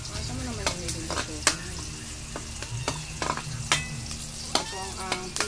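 Garlic sautés in hot oil in a pan, a continuous sizzle near at hand with several sharp clinks and scrapes of a utensil against the pan at irregular moments.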